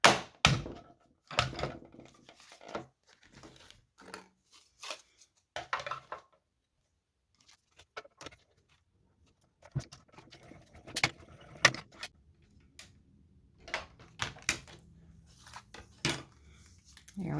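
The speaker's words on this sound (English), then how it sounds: "I'm going to bring in my mini cut and emboss machine." A mini cut and emboss machine cuts out an image for a diamond gate fold card, giving a run of sharp clicks and rattling metallic bursts, then a quieter stretch before denser grinding clatter and low rumble close by, with no talking.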